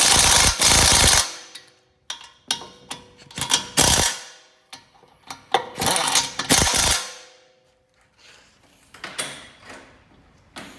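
Cordless impact wrench hammering on brake caliper bolts of a 2007-2011 Honda CR-V during a brake overhaul, in several short loud bursts with brief ratcheting clicks and gaps between them, no talking.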